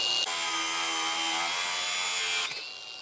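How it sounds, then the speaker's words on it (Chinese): A power cutting tool grinds through a heavily rusted mounting screw on an air conditioner outdoor unit's compressor, a loud, steady, high-pitched cutting whine that runs continuously for about two seconds and then cuts off abruptly, leaving a fading tail. "下来的话切这个螺丝"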